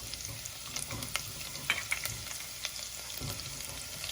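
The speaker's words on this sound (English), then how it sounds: "Make sure you keep the flame at low as the chilies begin to splutter." Green chillies spluttering in hot oil over a low flame for a mango pickle, a steady close frying hiss scattered with small pops and crackles.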